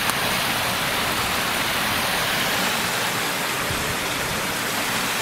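Steady rushing water pours without a break into a pond, a dense broadband wash like a small outflow spilling into still water, fairly close and constant.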